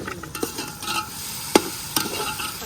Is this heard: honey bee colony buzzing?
no